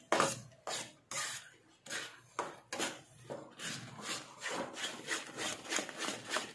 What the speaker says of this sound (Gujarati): આ રીતે સરસ રીતે આપણો હલાવ્યા કરવાનું જ્યાં સુધી કઠણ ન થાય ત્યાં સુધી આપણે